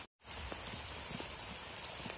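Steady rain falling in the Sundarbans, a dense, even hiss of drops with scattered close patters, after a brief silent gap at the start, with no talking.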